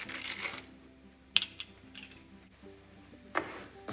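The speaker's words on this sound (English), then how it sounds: "Stirring it, roast them well in oil for 2 to 3 minutes or until the dals become golden brown" Urad dal and chana dal roasting in oil in a pan, with a soft sizzle and a few sharp scrapes and clinks of a spoon stirring against metal, quiet and close, no talking.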